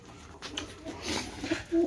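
Pigeons cooing on a rooftop terrace, soft low coos close by with faint rustling, alone and brief.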